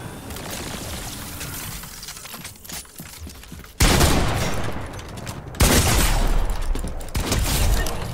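Loud shotgun blasts in a video game hit in heavy, booming bursts, with rapid rattling shots and a few big impacts spaced a second or two apart.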